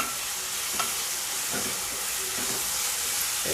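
Curry leaves sizzle and crackle steadily in hot oil, a dense hiss with occasional stirring scrapes, close and continuous without any talk.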